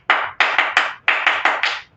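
A group claps together in rhythmic bursts at a company gathering, eight sharp, loud, evenly spaced claps split into two sets of four, with no talk over them.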